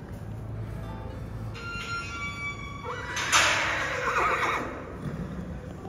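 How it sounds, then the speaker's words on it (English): A baby mustang lets out a long, loud whinny that rises and wavers before trailing off, heard against a steady outdoor background hum. "This is the horse that you've been hearing, upset because it had just been separated"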